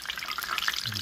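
Leftover tacos deep fry in hot oil, giving a brief, steady bubbling hiss with light crackles at moderate loudness and no talking.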